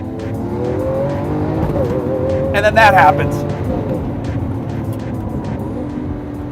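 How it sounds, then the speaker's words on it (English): A 2013 Lamborghini Aventador in full manual Corsa mode drops a gear, and the engine roars with a sharp rev blip in the middle of a steady loud drone while someone talks over it. "I like to put the transmission into full manual Corsa mode, which is the most aggressive shift language, and then just pop it down a gear"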